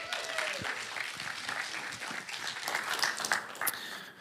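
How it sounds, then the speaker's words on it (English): Church congregation applauding as Pastor Mike is invited up to speak, a steady moderate round of clapping throughout with a few sharper claps near the end. "let's give him an applause"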